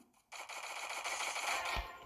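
A video game weapon fires a rapid run of gunshots, a dense clattering burst lasting under two seconds, close and fairly quiet, with no talking.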